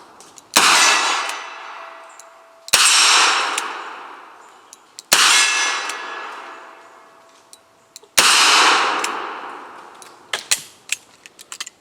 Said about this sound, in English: We'll do some double action because that's how you're supposed to shoot a revolver, apparently.